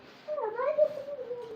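A single drawn-out cat meow, close and moderately loud, rising then sliding down over more than a second.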